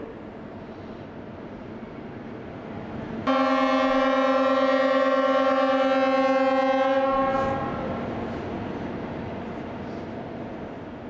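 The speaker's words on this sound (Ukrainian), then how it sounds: "З гордістю та вдячністю згадуємо про всіх загиблих під гудок честі від усіх українських локомотивів." Ukrainian locomotive horns sounding together in a tribute to fallen railway workers: a sudden, sustained multi-tone chord blares for about four seconds, then fades into a distant lingering echo and low background rumble.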